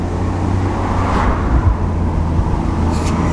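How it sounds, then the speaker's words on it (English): Steady low rumble and burble from the straight-six exhaust of a 2005 BMW 330Ci E46 convertible with automatic gearbox, heard continuously from inside or near the car with faint whooshing traffic in the background. "There's a burble in the background. It's very nice. Almost sounds like thunder."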